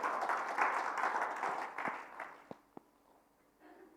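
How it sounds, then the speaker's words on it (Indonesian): A church congregation applauds during a Sunday worship service, a broad wash of clapping that fades away midway, leaving a couple of isolated claps and quiet room sound. "Mari berikan tepuk tangan."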